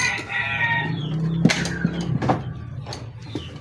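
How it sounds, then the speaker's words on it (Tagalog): Chickens cluck and a rooster crows close by at a mechanic's roadside spot, over a busy background of rustling and scattered knocks. "Ayun na, pakita ng manok tara."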